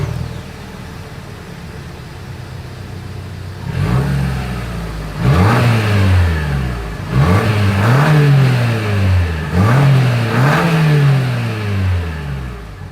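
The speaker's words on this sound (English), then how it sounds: "As always, here is that exhaust clip." A 2025 Lexus RX350 SUV engine idles with a low exhaust rumble, then revs several times in succession, each rise climbing and falling back, loud and close.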